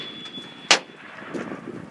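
A single sharp gunshot from a Mossberg Patriot .300 Win. Mag. rifle fired from a Ransom Rest outdoors, a loud crack followed by a short fading echo over light wind noise.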